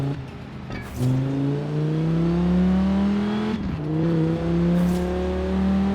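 Engine of the Quadra car, a Cyberpunk 2077 vehicle driven in the racing game Forza Horizon 4: a loud, close, deep growl that revs up, drops at a gear change, then climbs again and holds steady.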